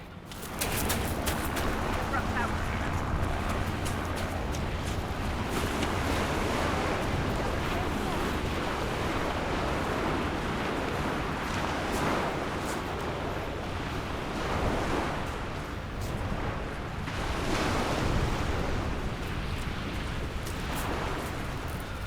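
Ocean surf breaking along Southsea Beach, a continuous wash of waves with swelling surges and wind buffeting the microphone, heard close and fairly loud without speech.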